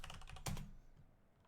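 Close, quiet typing on a computer keyboard: a quick run of key clicks with one louder keystroke, then fading.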